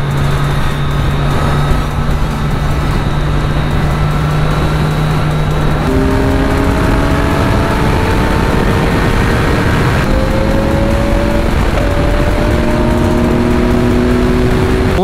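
Kawasaki Z900 motorcycle riding along a two-lane road at sunset, a steady engine drone with rising pitch sweeps as it accelerates through gears, heavy wind rush over everything, no talk.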